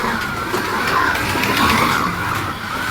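A BTCC Honda Civic slot car circling a slot track, a continuous buzzing whir of the small motor and tires that swells and fades as it rounds the lap, close and fairly loud.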